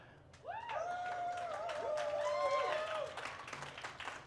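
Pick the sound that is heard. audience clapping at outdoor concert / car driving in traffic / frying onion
audience clapping at outdoor concert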